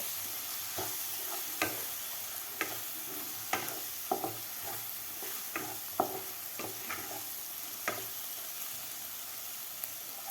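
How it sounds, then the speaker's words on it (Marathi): Spices frying with onions and tomatoes in a pan for broccoli bhaji, a low continuous sizzle with scattered sharp clicks and taps of a spoon stirring against the pan, close and quiet. "हे मसालेसुद्धा खालच्या कांदे आणि टोमॅटोमध्ये व्यवस्थित आपल्याला परतून घ्यायचे आहेत"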